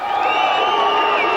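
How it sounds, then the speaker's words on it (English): A wild crowd in Manchester, UK, in 2000 screaming for Mike Tyson: loud, dense, sustained high-pitched shrieks and cheers from many voices at once. "wild crowds screaming for a piece of Tyson"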